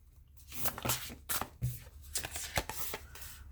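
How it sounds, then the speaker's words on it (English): Tarot cards being shuffled by hand at close range, a run of crisp riffling bursts and soft slaps with short pauses between them, no speech. "I feel like I should have shuffled better."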